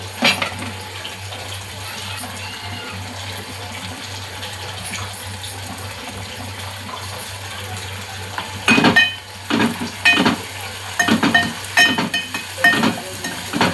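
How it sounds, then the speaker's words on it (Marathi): Tomatoes are tipped into onions that are already frying in a pan, giving a steady close sizzle with stirring and clattering scrapes of a utensil against the pan in the second half. "तर आपण आता यात टाकूया टोमॅटोज."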